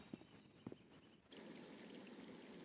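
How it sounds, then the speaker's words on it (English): Steady flowing water ambience from the Broken Sword: Shadow of the Templars video game fades in after a few soft, brief knocks, then holds as an even, continuous wash. "now listen to the water."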